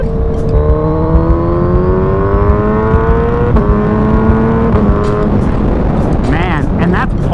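A Suzuki Hayabusa motorcycle pulls hard at part throttle, its engine note rising steadily through the gears with quick shifts and auto-blipper changes, loud and close under wind noise, with riders talking over it.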